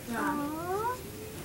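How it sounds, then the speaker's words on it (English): A cat gives a short, drawn-out meow with a wavering pitch, heard close and fairly soft, followed by quieter low rumbling. "She's purring."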